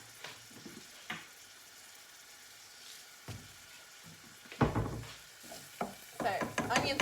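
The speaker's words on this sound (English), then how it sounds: "So we just let the onions saute in the oil for about 2-3 minutes" Onions sautéing in oil for veg enchiladas, a quiet sizzle punctuated by sporadic scrapes and clinks of a utensil, busier toward the end, with no talking.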